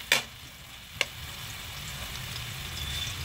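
Garlic and ginger fry in a pan with a steady, gentle sizzle, broken by a couple of brief clinks or scrapes near the start.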